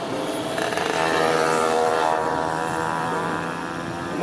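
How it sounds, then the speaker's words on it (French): A motorbike passes by at a steady, fairly loud level, its engine note building toward the middle and then easing off a little, with no speech over it. "Moto."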